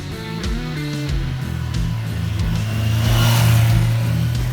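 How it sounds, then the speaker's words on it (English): A sports tourer motorcycle engine pulls while riding, its note rising through gears with short dips at each shift, then swelling into a loud sustained drone toward the end, close and alone. "Riding this bike is just such a pleasure."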